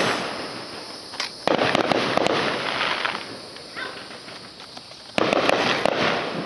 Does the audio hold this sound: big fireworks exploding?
yes